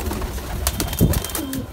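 Madrasi pigeons coo softly nearby, a few low murmuring calls amid light rustling and background noise.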